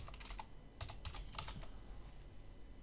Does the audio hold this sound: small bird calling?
no